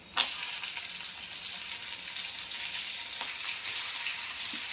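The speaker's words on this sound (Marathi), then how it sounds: "आणि हे आता मी घालणार आहे कांदा" Onion frying in hot oil flavoured with chillies for a Karnataka-style breakfast, a steady close sizzle throughout with a sharp crackle as it hits the pan, no talking.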